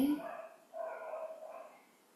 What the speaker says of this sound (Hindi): क्योंकि कुत्ते भौंक रहे हैं